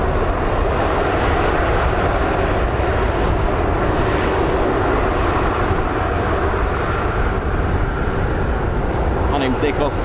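A KC-135 at RAF Mildenhall air base gives a loud, continuous jet engine roar. It stays broad and steady throughout with no pause. A faint tick or click comes near the end.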